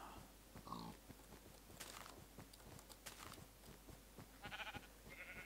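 Sheep bleating in a Minecraft-style survival world, a few short cries near and far over soft footsteps and faint game ambience, with no talk.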